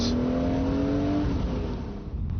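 A BMW Z3 M Roadster accelerates hard out of a drift on a wide open runway, its engine roaring loud and close with a steadily rising pitch before easing off toward the end.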